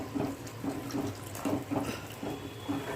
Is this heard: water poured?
yes